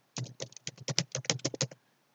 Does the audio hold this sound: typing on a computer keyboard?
yes